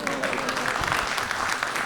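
A short burst of audience clapping at a Republic Day mushaira poetry gathering, a dense, even patter of many hands in a hall.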